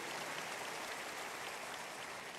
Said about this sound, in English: let's give the Lord a big, big clap of praise.